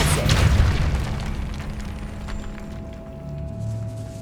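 A Depulso spell blast in the Hogwarts Legacy video game, a loud booming burst at the start that rolls off into a low rumbling decay, with a faint steady tone lingering behind.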